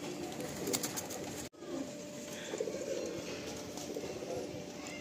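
Madrasi pigeons coo in a loft, with soft, throaty, overlapping calls repeating close by over a steady background hum and a faint murmur of voices.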